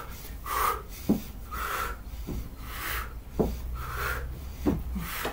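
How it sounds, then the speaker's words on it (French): Fast, rhythmic breathing during a mountain climber exercise in a ballet-style core workout, with sharp inhales and exhales repeating roughly every second, close and moderately loud with no talking. "J'accélère ma respiration."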